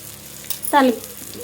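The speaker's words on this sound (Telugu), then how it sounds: "చట్నీకి తాలింపు అన్నమాట" A short burst of sizzling as tempering spices hit hot oil for chutney, loud and close, fading after about a second amid a faint voice.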